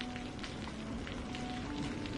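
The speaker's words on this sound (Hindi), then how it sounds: "अगली सुबह बारिश और तेज हो गई।" Steady heavy rain pours down outdoors, a dense even hiss of drops with no voices.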